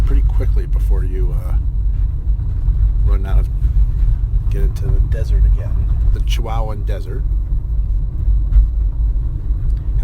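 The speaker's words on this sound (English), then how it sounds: "I don't know if you can hear our car rattling in the roads" Chevy car rolling over a rough paved road in the Chihuahuan desert, a steady low rumble and rattle from the cabin running throughout, with a person talking over it.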